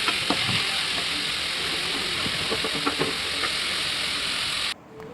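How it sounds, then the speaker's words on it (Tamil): Peas, carrots and beans sauté in a pan with a loud, continuous sizzle and hiss, broken by occasional stirring scrapes, before the sound drops off abruptly near the end. "பட்டாணி கேரட் பீன்ஸ் மூணுத்தையும் சேர்த்துக்கலாம் எல்லாத்தையும் சேர்த்துட்டு வதக்கிக்கலாம்"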